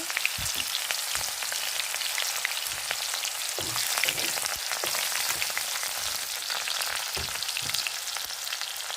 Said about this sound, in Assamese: নহৰুটো ভাজি লওঁ প্ৰথমতে